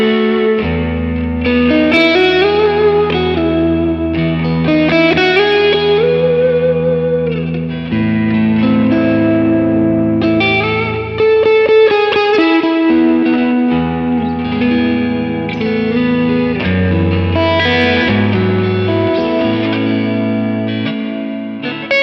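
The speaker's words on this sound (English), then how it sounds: "The right side has a much longer reverb." Electric guitar played through a Quad Cortex with stereo reverb, the right side holding a much longer tail; melodic phrases ring out loud and continuous, washed in reverb and echo.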